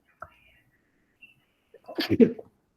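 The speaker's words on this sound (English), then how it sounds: "I feel like I'm gonna sneeze." A single close sneeze bursts out after a brief quiet pause, with a faint sharp intake just before it.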